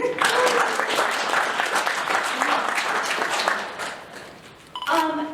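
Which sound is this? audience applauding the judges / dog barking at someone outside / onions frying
audience applauding the judges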